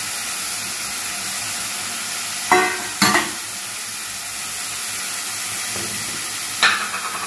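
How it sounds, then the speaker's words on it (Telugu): Mushrooms fry in a pan with ginger garlic paste, giving a steady close hiss of oil with a few sharper bursts of crackle as pieces are tossed in and stirred, and no talking. "తర్వాత మొత్తం పుట్టగొడుగులని దాంట్లో వేసుకోవాలి."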